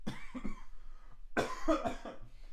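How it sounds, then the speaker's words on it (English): Two harsh, close coughs, one short and one louder and longer, spaced about a second apart. "sorry, I didn't mean to cough right in the microphone"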